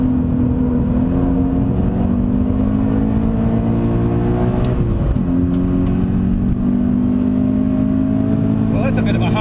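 A Subaru BRZ engine revs hard at full throttle around a race track, a loud, steady droning roar that rises and dips slightly as the car pushes on, sounding close and continuous the whole way through.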